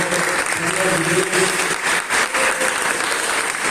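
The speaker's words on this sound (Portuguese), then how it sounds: "Quero pedir uma salva de palmas para as mulheres dessa igreja que fizeram festa também" A church congregation applauds in a dense, steady round of clapping that carries on for several seconds, with some murmured voices and a voice partly heard beneath it.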